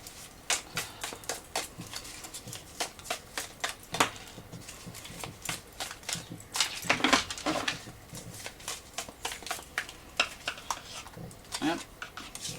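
A deck of cards is shuffled and handled during a card reading, giving quiet, uneven bursts of papery flicks and taps close by with short pauses between them.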